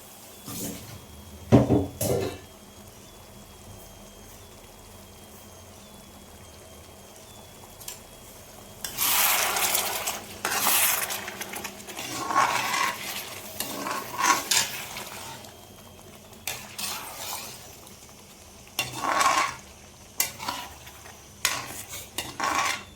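Chicken curry in a pan bursts into sizzling after a splash of water goes in, alternating with quiet stretches, spoon scrapes and the clatter of utensils against the pan.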